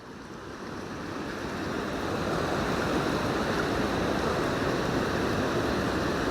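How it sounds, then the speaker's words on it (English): Steady, loud roar of water pouring over a river weir at a riverside nature reserve, a continuous broadband rush that swells slightly in the first seconds and then holds constant, heard close with no voices. "hopefully you can hear me above the roar of the weir in the background"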